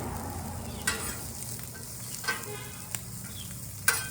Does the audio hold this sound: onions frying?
yes